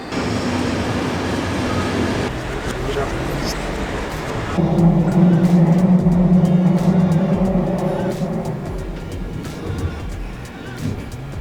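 A train pulls into or passes through a station in Vienna, a loud steady rumble with a low droning tone swelling midway, under a constant bed of station noise and a faint voice in the background.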